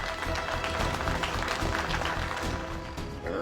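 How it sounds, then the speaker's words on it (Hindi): Clapping from an audience fills the room steadily, dense and continuous throughout, at a moderate level with a busy crowd texture. "एक बार तालियां हो जाए भाई"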